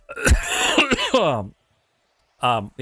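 A Minecraft character's voice lets out a few rough, strained coughs and groans as it dies, then fades into silence before a short vocal burst returns near the end.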